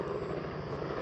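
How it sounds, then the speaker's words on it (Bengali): A red helicopter passes at Lal Pahar in Sreemangal, giving a faint, distant, steady rotor thrum with a low pulsing beat and no voices. "লাল কালার ওই যে হেলিকপ্টার"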